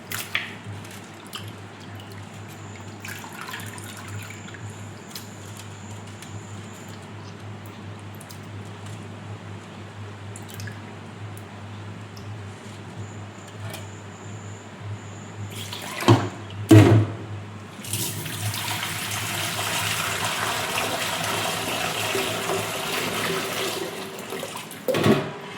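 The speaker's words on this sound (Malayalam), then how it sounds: "ഇങ്ങനെ വെള്ളത്തിൽ മാറി മാറി മാറി കഴുകി എടുത്താൽ മാത്രമേ വൃത്തിയായി കിട്ടും" Water swishes and trickles quietly while small tuna pieces are rinsed, then a louder rush of pouring or running water takes over near the end, with some thuds and splashes.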